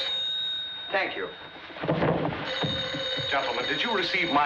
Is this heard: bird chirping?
no